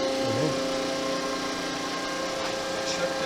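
A Landis 2R 14 x 36 inch universal grinder runs with a steady mechanical hum and faint whine, a continuous close machine drone with a brief low wobble near the start.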